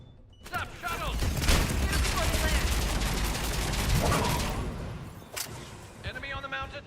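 A mounted gun firing in Mass Effect 3 amid combat: a loud, sustained rattle of rapid gunfire with heavy booms underneath, dying down near the end with a few sharp mechanical clanks.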